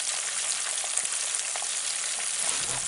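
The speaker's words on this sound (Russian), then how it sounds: "готовит рыбу, жарит." Continuous crackling sizzle of fish frying in hot oil, steady and close, with no talking.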